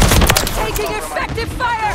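Rapid gunfire bursts in the video game Call of Duty: Modern Warfare 3, dense and loud throughout with overlapping shots and brief voice chatter mixed in.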